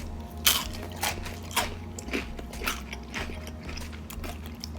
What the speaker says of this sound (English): Did you hear that freaking crunch?